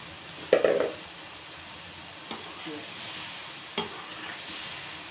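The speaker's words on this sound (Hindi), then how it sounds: "ये जो चने बॉईल करके रखे थे ये सारे के सारे इसके अंदर डाल देते हैं" Boiled chickpeas tipped into a pan of fried masala give a loud, close sizzling burst near the start, followed by quieter scraping and stirring with a couple of sharp clinks.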